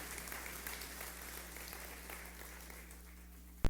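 A church congregation applauds the children in a steady wash of clapping at moderate distance, fading slightly near the end before a sharp close thump.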